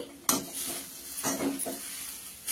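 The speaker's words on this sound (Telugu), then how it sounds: "కాస్త ఫ్రై అయితే మునగాకు ఫ్రై రెడీ అవుతుంది" Moringa leaves with cashews being stir-fried in a pan, giving a few sharp spatula scrapes and clatters against the metal over a continuous hissing sizzle, heard up close with no voices.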